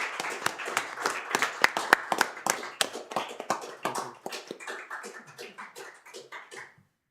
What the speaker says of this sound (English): and applaud you for doing that.